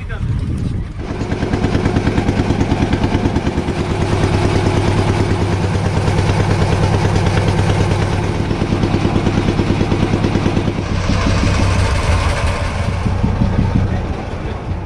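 A motorboat engine on the Ganges river runs loud and close with a steady, rattling drone that stays constant throughout.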